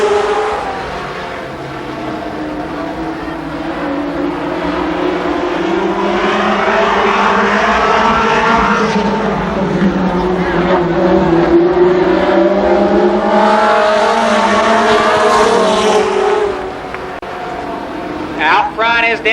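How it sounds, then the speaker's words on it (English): Late model race cars running a heat race at Columbus Motor Speedway: a continuous roar of several engines swelling and fading as the pack passes, with an announcer talking throughout. "10 racing laps, the late model first heat race."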